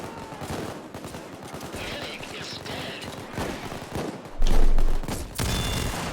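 Rapid bursts of gunfire in the video game Payday 2, a dense stream of loud shots with heavier blasts toward the end.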